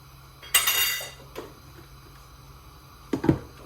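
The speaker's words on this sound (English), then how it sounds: "I'm just going to stir it together until it's properly combined with my wooden spoon" Chopped turkey thighs are stirred in a pot with a wooden spoon, giving two short bursts of scraping and clattering with a faint knock between them in a quiet room.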